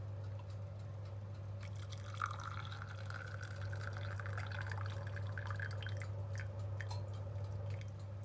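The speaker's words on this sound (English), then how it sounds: "Now we just pour this out onto one of the cups." Hot Moroccan tea poured from a pot into a cup, a soft, steady trickle of liquid lasting several seconds over a constant low hum, without any talk.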